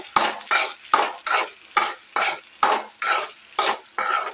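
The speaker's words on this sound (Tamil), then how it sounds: "இப்போ நல்லா மிக்ஸ் பண்ணிவிடுங்க" Egg rice made from leftover rice stirred in a pan, with about ten evenly spaced scraping strokes roughly two per second, each a loud close swish over a faint sizzle, no talking.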